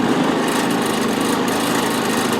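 A Predator 3500 generator engine runs close by with a steady, loud, buzzing drone that stays constant throughout with no talking.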